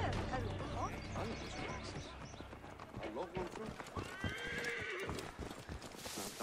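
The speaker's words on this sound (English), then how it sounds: "Aw, oh, poor horsey, stuck in the wall." A horse in the video game Assassin's Creed Origins neighs and whinnies among clip-clopping hooves and thuds, loud and busy, with a person talking over it.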